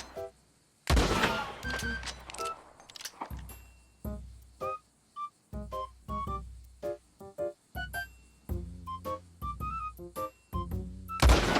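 Gunshots in Red Dead Redemption 2, a hardcore sharpshooter challenge, ring out as a series of spaced, sharp thuds with brief echoing tails. Quieter game sounds fill the gaps between shots.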